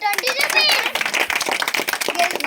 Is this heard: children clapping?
yes